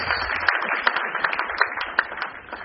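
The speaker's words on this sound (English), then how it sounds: "Let's give a good round of applause" Audience applause at a corporate event, a short burst of many hands clapping at moderate volume, with a few sharper claps in a loose rhythm standing out.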